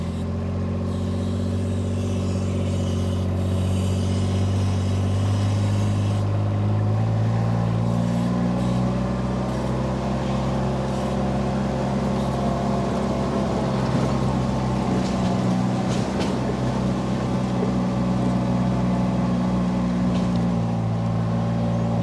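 A four-wheel drive vehicle in low range with the diff locked grinds up a steep hill, hauling maple logs; a loud, steady engine drone holds throughout with a slight rise in pitch partway, and no voices.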